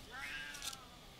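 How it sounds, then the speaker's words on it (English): Cat meowing loudly from another room, a single drawn-out, wavering yowl heard faintly at a distance. "sorry about the cat in the other room"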